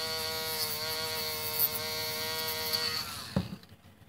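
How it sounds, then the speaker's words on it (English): A battery-powered Dremel rotary tool buzzes steadily while grinding a slot car body, then winds down after a few seconds, ending with a short clunk. "Let me go get my battery for my Dremel"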